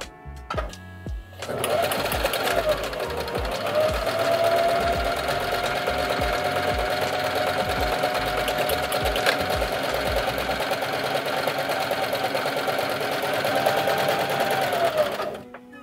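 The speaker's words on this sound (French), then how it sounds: "quand je vais venir peser sur la pédale, ça va faire automatiquement la dimension de la boutonnière" A Janome HD5000 sewing machine stitches a buttonhole automatically, a steady fast mechanical whirr running nearly nonstop for about fourteen seconds after a brief start, close and loud with no talk.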